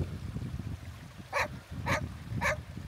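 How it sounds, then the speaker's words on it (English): Three sharp dog barks at even intervals, fairly near and clear, from a dog at a riverside van park-up beside a babbling brook, over a low rumble of running water. "Daft blind dog barking for now, which shows that we're just getting out of the van"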